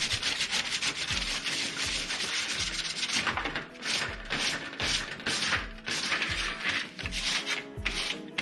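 Rhythmic rasping of sandpaper scrubbing copper sheet for a birdhouse, back-and-forth strokes repeating steadily at close range with no voices.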